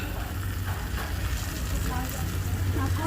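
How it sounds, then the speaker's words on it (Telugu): Mushrooms fry in spiced masala in a pan over a wood-fired stove, giving a steady crackling sizzle with stirring scrapes and a low rumble of flame underneath, and a faint voice is audible in the background. "మసాలా బాగా వేగింది. వేగినాక మష్రూమ్ వేసుకున్నా."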